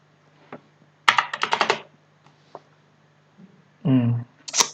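Fingers tap out a quick burst of keystrokes on a computer keyboard, then a firmer press of Shift and Enter, crisp and close with short gaps and a brief voice between.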